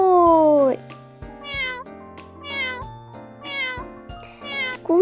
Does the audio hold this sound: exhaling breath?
no